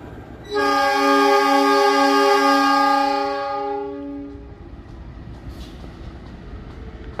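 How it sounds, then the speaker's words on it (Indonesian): The Malabar passenger train's horn sounds one long, loud chord for several seconds as it departs Kiaracondong station, then fades, leaving a low rumble of the train in the background. "Kereta api Malabar pagi akhirnya diberangkatkan juga dari stasiun kedebage."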